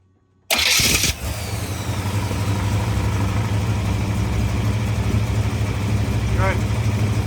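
A 1984 Corvette with a newly replaced starter cranks briefly and fires, settling into a steady rumbling idle close by, with a faint voice heard over the engine.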